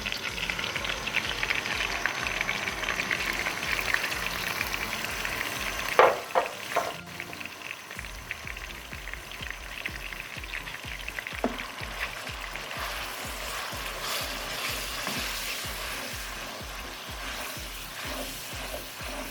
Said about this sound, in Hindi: ये हाफ कप ऑयल लिया मैंने और गार्लिक पेस्ट इसमें डाल दिया, और साथ ही हम इसमें ये प्याज का पेस्ट भी डाल देंगे।